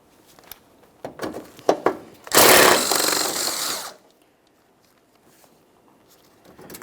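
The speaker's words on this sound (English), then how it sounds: "This 10mm bolt is the one we're going to remove." Power tool spinning out a 10mm headlight mounting bolt on a 2012-2015 Honda Civic: one loud burst of whirring lasting under two seconds, set between scattered clanks and taps of handling, then near silence.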